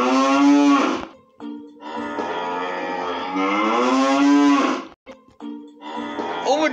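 A cow in a video game moos loudly and close in three long drawn-out calls separated by short pauses, with no talk over it.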